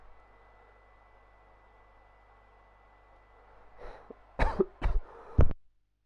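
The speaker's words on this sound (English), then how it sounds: "Gosh dang it, man, this cough" A streamer with a lingering cough lets out a few sharp, close coughs in quick bursts after several seconds of quiet room hiss.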